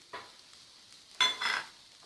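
Sliced cabbage and thin capsicum strips sautéing in a pan for spicy egg noodles, giving a soft, faint sizzle and two brief close scraping stirs, the second louder, with no talking.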